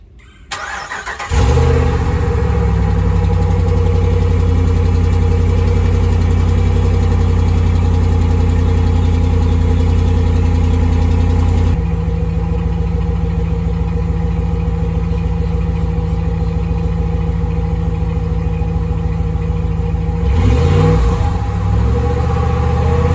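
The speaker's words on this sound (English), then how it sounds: "We're going to do a cold startup just so you guys can hear how it sounds like before the muffler." A 2018 Ram 1500 with its stock muffler cold-starts with a brief crank, then settles into a loud, steady, deep idle, close by, with a slight shift in tone partway through and no talking.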